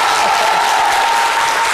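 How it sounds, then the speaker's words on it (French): Dense, sustained applause from a studio audience at a Côte d'Ivoire television talk show, loud and even throughout with no clear breaks. "Vous pouvez vous applaudir."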